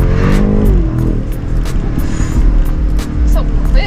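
A BMW X7 M60i twin-turbo V8 heard from inside the cabin, its engine note climbing sharply in pitch at first, then settling into a loud, steady, dense roar under hard acceleration.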